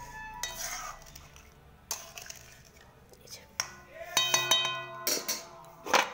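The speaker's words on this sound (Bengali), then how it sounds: "এবার আমি বাটিতে ঢেলে নেব।" A cooked dish is poured from a pan into a bowl with scraping spoon strokes and sharp metallic clinks, getting busier toward the end, while a voice talks quietly.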